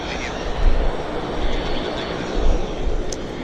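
A Cessna Citation business jet taxis at Vancouver Airport, its engines a steady broad roar with a low rumble swelling and easing, heard from a distance outdoors.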